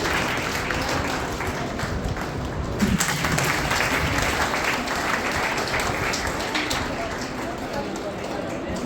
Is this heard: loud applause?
yes